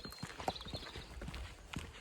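A horse's hooves clip-clop at a walk at an equestrian derby event in Les Mées, a steady run of moderately near hoofbeats with faint background noise and no talk.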